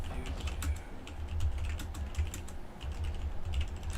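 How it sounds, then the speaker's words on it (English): Rapid typing on a computer keyboard during a Friday night live stream, a steady run of close, clicky keystrokes with uneven rhythm over a low hum, with no voices. "I never realized how loud my typing is"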